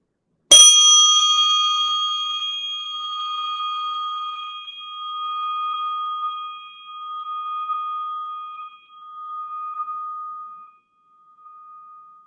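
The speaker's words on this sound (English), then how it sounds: "we do that just by the ringing of this little Tibetan bell" A single strike of a small Tibetan bell rings out loud and clear in a quiet room, then its bright tone hangs and slowly fades over about ten seconds.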